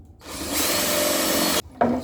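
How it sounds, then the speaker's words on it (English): A 1/2 inch Forstner bit bores into wood with one sustained, grinding power-drill whir lasting just over a second, stopping abruptly, then a brief second burst of the drill spinning. "now I'm using the 1/2 inch Forstner bit, and what I want to do is I want to just dig down a little bit"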